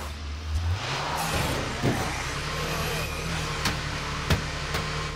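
In State of Decay 2, a car engine hums at a steady low drone while driving, rising slightly early on, with sharp knocks and thuds scattered over it and no talking.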